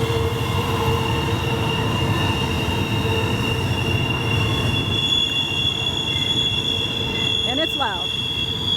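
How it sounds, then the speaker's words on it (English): Freight train on Horseshoe Curve with loud, steady wheel squeal and rumbling rail cars going on throughout, a sharp rising screech near the end, and a voice in the background. "Train is over there. The other one is still coming around the corner over there."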